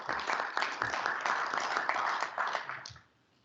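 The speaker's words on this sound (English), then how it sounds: "I think it's worth a wee round of applause" A wee round of applause at a council meeting: a brief, dense patter of clapping from a modest group that holds steady for about three seconds and then stops abruptly.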